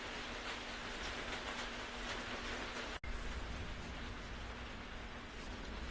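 Steady rain falls outdoors as a dense, even hiss with no speech, continuous apart from a brief dropout midway.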